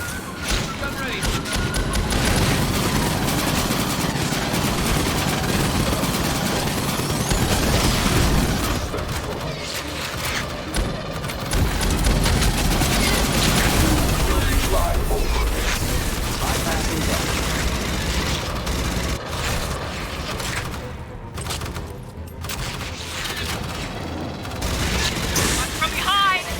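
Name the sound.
gunfire in Aliens Fireteam Elite video game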